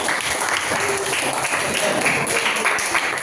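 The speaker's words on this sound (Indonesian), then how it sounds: "tepuk tangan untuk sahabat kita ya." Classmates applauding in a school classroom, a dense continuous patter of clapping at fairly high level, with some faint voices mixed in under it.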